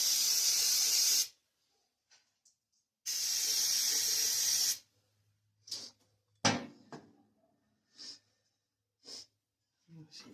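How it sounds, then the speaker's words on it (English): Two bursts of contact cleaner sprayed from an aerosol can during a 1950 Chevy frame swap onto a 2004 Chevy Tahoe 4x4, each a loud hiss lasting a few seconds, followed by quieter scattered clicks and breathy sounds. "we'll spray it out again with some spray."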